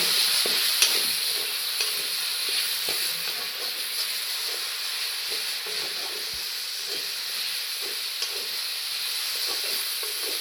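Jackfruit seeds tossed with chilli and cumin powder fry in a pan with a steady bright sizzle, while a spatula scrapes and stirs in soft irregular clicks throughout.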